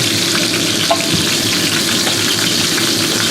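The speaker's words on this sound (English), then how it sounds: "I'd like to cook the veggies, so I'll put about 3 pats of butter in there." About three pats of butter melt in a pot, giving a loud, continuous sizzle close up with a faint scrape of stirring. The sound stays steady throughout, with no voices.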